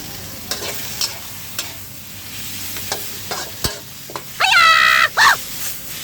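Bitter melon and egg sizzle steadily in a hot wok while a utensil scrapes and taps against the metal, with a few sharp squeaks near the end.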